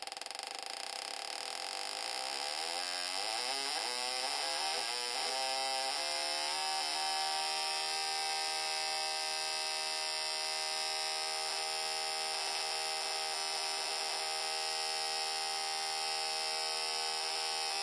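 An LS2 V8 engine fitted with a Yukon ignition coil revs up to raised RPM, its steady buzzing drone rising in pitch over a few seconds and then holding at a constant high whine.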